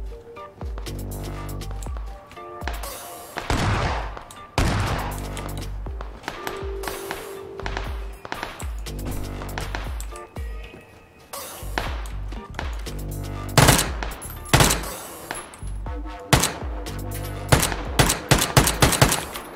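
Gunfire in PlayerUnknown's Battlegrounds: loud, close bursts of automatic fire and single shots in irregular clusters, with short pauses between volleys and no talking.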